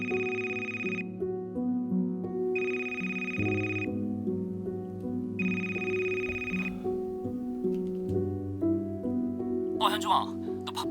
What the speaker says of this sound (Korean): 1시쯤 한 통의 전화를 받게 됩니다